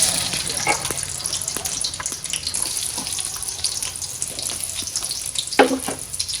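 Onions fry in hot oil for a goat head curry, giving a close, steady sizzle with scattered clinks and scrapes of stirring, plus a brief louder clatter near the end.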